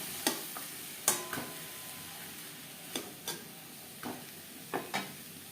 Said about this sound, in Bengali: আদা বাটা কাঁচা লঙ্কা বাটা সবজির সাথে মশলা বেশ ভালো করে মিক্সড করে দেবো